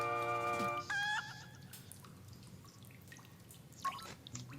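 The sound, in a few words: blue bird sound in Zelda: Link's Awakening video game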